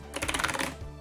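Keys on a Cooler Master CK720 mechanical keyboard clatter in a quick, close burst of about a dozen clicky strokes, then stop.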